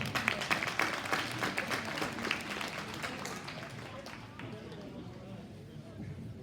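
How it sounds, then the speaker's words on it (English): A crowd at a cattle show applauds a young exhibitor winning an exotic heifer class, moderate clapping that fades over a few seconds into a quieter arena murmur, with talk present. "Let's give Kenzie a nice round of applause."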